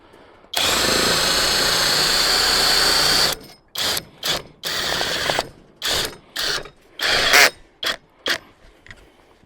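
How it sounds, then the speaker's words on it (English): A lawn mower lift jack being ratcheted up outdoors: a long, loud mechanical grind, then a series of short, regular ratcheting bursts with brief pauses between them, close and with no talk. "you can see how easy this is to raise up your mower"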